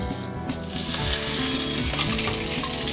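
Mixed vegetables frying in oil with radhuni spice just added, dried chillies already in the pan: a loud, continuous close sizzle with faint stirring.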